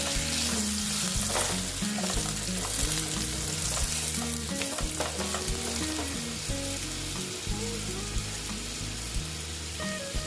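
Cut potatoes frying in oil in a pan for a Bengali bottle gourd greens and poppy seed dish, a continuous close sizzle with occasional stirring scrapes, no talk.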